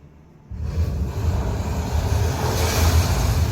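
Recorded water sound fills a projector installation at the Statue of Belief in Nathdwara, a steady rushing wash like surf that starts abruptly after a near-silent moment and stays loud and continuous.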